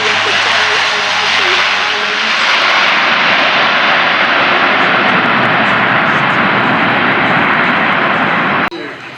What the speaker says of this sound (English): look there, as the C-130 does its final landing.